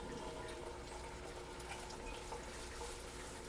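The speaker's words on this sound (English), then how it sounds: "we're going to add a little bit of wine to let the alcohol cook out and to deglaze the pan" Wine poured into a hot pan to deglaze it for seafood fra diavolo, giving a continuous bright sizzle and hiss with a steady liquid wash throughout, fairly close, with no talking.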